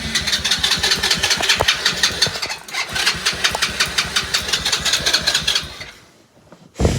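A quad bike engine is started, with a close rhythmic chugging of cranking and firing that stumbles briefly, keeps pulsing for several seconds, fades almost to nothing, then catches again at the end.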